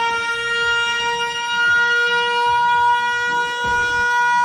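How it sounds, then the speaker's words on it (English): A loud electronic siren wails without pause, ringing out as a stream hype alert. Its steady tones stack over sweeping whoops, and no voices break in. "I probably should fix that, but I do like that siren."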